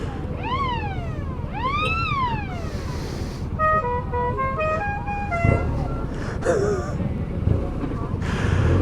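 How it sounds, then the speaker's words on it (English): Motorbike horns on a budget bike trackday trip toward the Brno circuit: two rising-and-falling siren-like wails, then a rapid series of short stepped toots, over engine noise and occasional voices. "Give it some horn"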